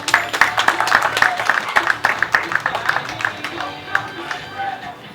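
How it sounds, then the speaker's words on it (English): A zoo audience at Ardastra Gardens in the Bahamas claps for a flamingo show, a dense patter of hands mixed with crowd chatter that stays fairly loud throughout, then thins slightly toward the end. "Please give the flamingos another round of applause."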